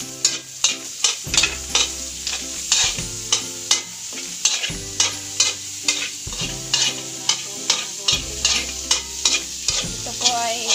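Onion is stir-fried with sizzling garlic in a pan. Repeated rhythmic scraping and stirring strokes rise over a constant frying sizzle, with occasional low thumps and hums beneath.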